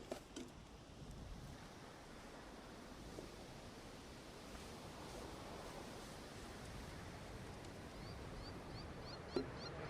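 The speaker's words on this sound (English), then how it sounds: "Goddamn wind." Wind blowing by the Pacific Ocean, a faint, steady broadband rush mixed with distant surf, with a few soft gusts buffeting the microphone.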